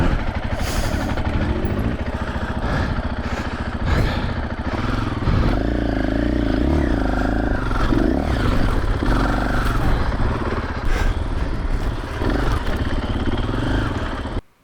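Off-road motorcycle climbing a hill in second gear, its engine loud and close with a continuous throaty roar that rises and labours under load, then cuts off abruptly at the end.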